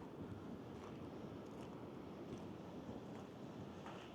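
Wind on the southwest coast at Cape Cornwall roars as a constant, dense rush that buffets the microphone, with no voices.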